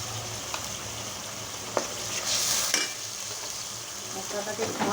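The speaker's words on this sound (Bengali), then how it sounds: "মশলাটাকে একটু ভালো করে কষাই নিব।" Ginger paste and spices frying and being stirred in a pan, a steady broadband sizzle with occasional scraping clicks of the spoon, close and fairly even throughout.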